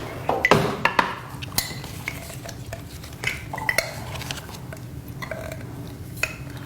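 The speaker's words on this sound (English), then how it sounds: "Let me get a spoon." A spoon and dishes clink and clatter in a home kitchen while vegan, gluten-free chocolate energy bites are being made, with sharp scattered knocks and scrapes, fairly close and moderately quiet, no talking.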